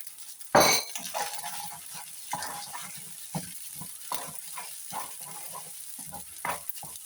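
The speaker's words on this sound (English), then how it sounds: "In with eggs and then stir around vigorously." Eggs frying in a small pan with fried rice, stirred vigorously: a sharp sizzle when they hit the hot pan, then a steady hiss with rhythmic scraping and clinks of a utensil, close by and with no voices.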